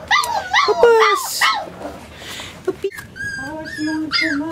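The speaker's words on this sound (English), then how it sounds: "Come on, little puppies." Four-week-old puppies whimpering and yipping up close in a quick series of high squeaky cries, with someone talking softly over and between them.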